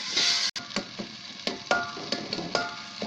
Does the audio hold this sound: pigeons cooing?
no